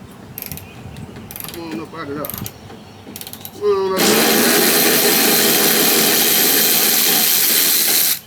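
Ratchet working bolts loose on the front end of a 2003 Chevrolet Silverado, starting with scattered clicks and a few rough tonal squeaks, then a loud, steady, dense grinding ratchet run that holds for about four seconds before cutting off.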